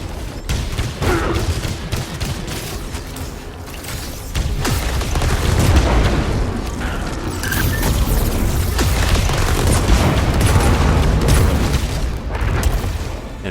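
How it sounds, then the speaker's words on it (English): Heavy payload rounds from an assault rifle in the shooter game Saros boom and crackle in a dense, continuous barrage of loud, overlapping blasts with no pauses, no voices. "Celine's assault rifle had 3 different firing capabilities: regular, heavy payload rounds, which were my favorite"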